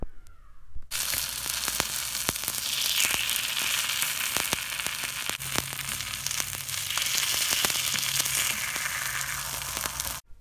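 Stuffed quail egg paniyaram frying in a pan, producing a steady, dense sizzle with scattered sharp crackles and pops that runs loud and close throughout, with no talking.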